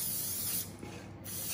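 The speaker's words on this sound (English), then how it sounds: "tin a light spray of grease, so that my paper sticks" A light spray of grease mists into a cake tin from a can, a close continuous hiss with a short dip in the middle before resuming.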